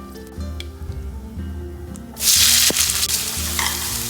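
Ground paste for a chickpea and potato curry hits a hot pan, bursting into a loud, steady sizzle after a short stretch of quieter scraping and shuffling.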